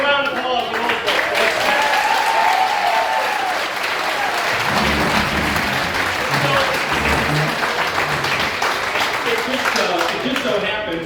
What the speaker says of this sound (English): Let's give a round of applause to those folks.